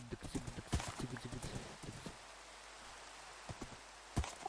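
Horse hooves clip-clop in a quick, uneven series while riding in the Minecraft video game, followed by a few scattered hoof steps, with no talking.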